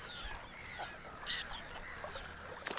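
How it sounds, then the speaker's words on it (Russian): A goose walking about in the open gives a few short honking calls, one brief louder honk standing out against quiet background, with no voices. "Гусь, ничего не подозревая, в течение 2 минут расхаживал перед сопровождающим его объективом"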